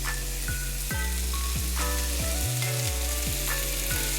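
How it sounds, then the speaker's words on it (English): Skirt steak sizzles steadily in an oiled pan, a dense continuous frying hiss that holds throughout, with tonal background music running underneath. "gonna give this a nice little hit of oil. All right, let's start up on our steak."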